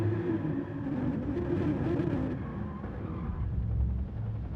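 A race car in a racing game runs off the track onto the grass. Its engine drones steadily, with rough tire and skid noise, then eases before catching a lower rumble.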